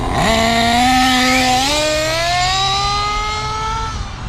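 A Kyosho Inferno NEO 3.0 RC nitro buggy's small engine screams at full throttle, a loud, close, high buzzing whine that rises in pitch, holds steady, then eases off slightly toward the end.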